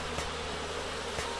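Steady buzzing of bees in the video game Windscape, a dense continuous hum with two brief louder swells, heard alone without talk.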